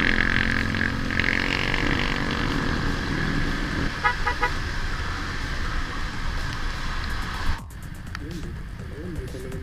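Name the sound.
road traffic with car horns honking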